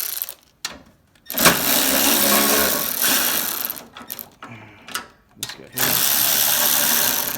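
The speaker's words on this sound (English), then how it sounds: "I'm going to use an extension, the 1/2 inch socket" A ratchet wrench with an extension and 1/2 inch socket works loose mounting bolts on an Ariens ST 824 snow thrower with a Tecumseh engine, giving bursts of rapid mechanical clicking separated by short pauses, close and fairly loud.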